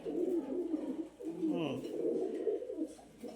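A Teddy pigeon coos close by in a repeated low, throaty rolling call, clear and fairly loud over a faint background hum.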